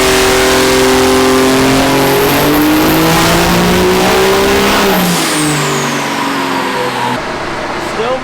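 A Cummins diesel truck engine running on its street tune on a dyno roars loud and close, its pitch climbing steadily through a hard sustained rev before easing off.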